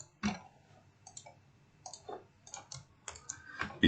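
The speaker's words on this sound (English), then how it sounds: "You can see me typing from scratch." Typing on a computer keyboard during a lecture, a sparse irregular series of crisp close key clicks with short pauses between bursts, quiet and alone without talk.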